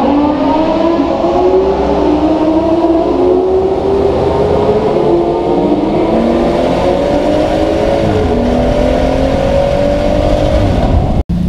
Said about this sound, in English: we're just going to accelerate out this town